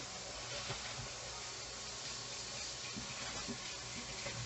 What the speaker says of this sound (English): I'm going to go ahead and rinse this rice in lukewarm water